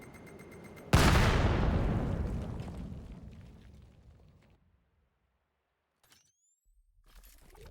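A single loud, booming AK rifle shot rings out in the VR shooter VAIL, followed by a long, rolling decay that fades to near silence. Faint clicks follow afterward.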